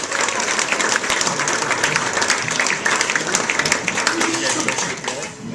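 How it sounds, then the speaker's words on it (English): Live comedy audience applauds to welcome comedian Scott McMann on stage, sustained thick clapping with crowd cheers throughout, a voice briefly heard over it. "Everybody clap for Scott McMann."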